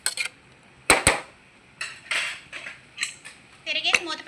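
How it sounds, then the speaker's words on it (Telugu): Veg biryani stirred in a pressure cooker and the lid closed, a series of sharp metallic clinks and scrapes of a spoon against the pot, then a clattering knock as the lid goes on, all close and unaccompanied. "తిరిగేసి మూత పెట్టండి"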